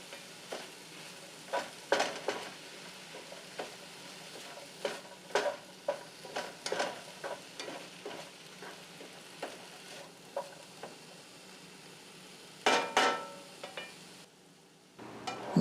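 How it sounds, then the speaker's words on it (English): Mushrooms and onions sizzle and fry in a pan while a utensil stirs them in repeated scraping bursts, steady crackle underneath, with a brief louder clatter near the end before it quiets. "Now we're going to put in our mushrooms and onions."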